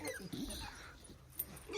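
A beagle puppy whimpers in short, soft bursts, with a brief yip near the end, heard close under someone talking.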